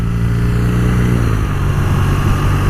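A 2018 BMW R nineT Pure with the standard exhaust and an air-cooled boxer engine rumbles steadily close by, a loud, low, even burble with no pauses or talk.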